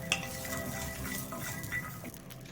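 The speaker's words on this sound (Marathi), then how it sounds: "आता गॅसवरती एक कढई ठेवली, त्यामध्ये वाटाणे जे घेतले ते थोडंसं आपण भाजून घेणार आहे" Fresh peas dry-roasting in a kadhai on a gas stove, faint scraping and stirring with soft rattles and a light background hiss, close and continuous without talk.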